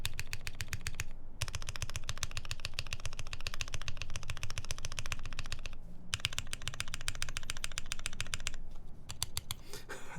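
Rapid, continuous clacking of a computer keyboard being typed on, dense bursts of keystrokes with a couple of brief pauses, close and loud throughout.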